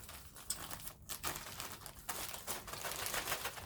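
An envelope of MIGardener seeds is ripped open by hand, with close, dry crinkling and tearing paper in a steady run of bursts and no talking.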